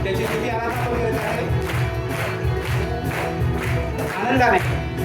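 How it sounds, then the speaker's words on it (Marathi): A Marathi church congregation in Ambernath claps hands in steady rhythm during worship, the beats blending with voices and singing in a full, reverberant room. "टाळ्या वाजवत त्याच्या उपस्थितीमध्ये आपण जाऊया"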